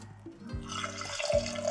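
Water is poured into a mixer jar holding ground peanuts and coconut, giving a soft splashing trickle over a low background hum.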